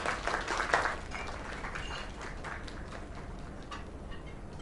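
Scattered applause from a small audience, brisk at first and then thinning into a softer, steady patter of clapping.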